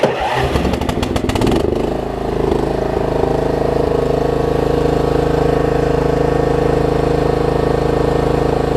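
A Troy Bilt Pony riding mower engine cranks with rapid chugging, catches, and settles into a loud, steady running drone close by.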